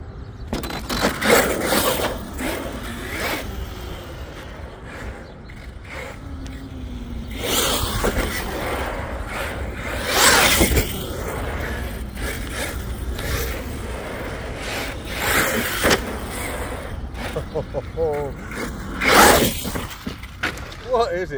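An Arrma Kraton 6S EXB RC truggy fitted with a wheelie bar races across soft asphalt, its motor whine and tyre noise rising and fading in several loud passes, with people talking excitedly throughout.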